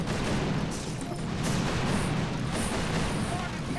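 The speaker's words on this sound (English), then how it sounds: "Another artillery, 1 and 2." Artillery fire rolls through the mobile strategy game Boom Beach during a Mega Crab stage: a dense, continuous barrage of loud booms and rumbling blasts that never lets up.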